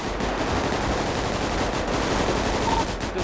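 Sustained automatic gunfire in GTA 5 roleplay, a dense, continuous rattle of rapid shots at close range that fills the whole stretch without pause.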